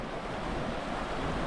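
The Vjosa river in Albania flowing close by, a dense, continuous roar of rushing water filling the whole moment without breaks.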